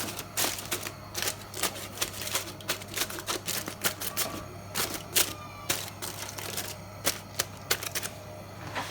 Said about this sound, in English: So we'll cover it again with the foil